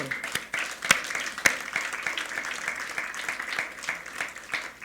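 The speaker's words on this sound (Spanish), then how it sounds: "Dale un aplauso fuerte al Señor" A church congregation applauding steadily during a sermon, with a few sharp, distinct claps standing out, heard at a moderate distance.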